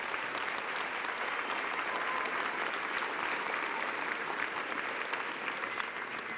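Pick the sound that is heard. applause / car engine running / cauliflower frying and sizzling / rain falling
applause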